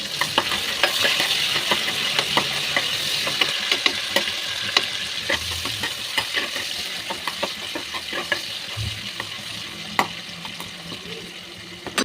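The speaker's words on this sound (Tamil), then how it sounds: "மூணு வெங்காயம் சேர்த்துக்கலாம் பெரிய வெங்காயம் ரெண்டு ரெண்டுன்றதை மூணு எடுத்துக்குவோம் நல்லா ஃப்ரை பண்ணி எடுத்துக்குவோம்" Onions and dried red chillies fry in a pan with a steady, close sizzle, while a utensil stirs through them in frequent scraping and clinking strokes.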